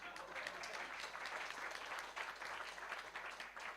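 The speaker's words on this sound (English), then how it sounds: "I should have a very heavy round of applause" Applause from the audience at an election integrity in Africa summit, a faint, distant, continuous patter of clapping from a crowd, steady from start to finish.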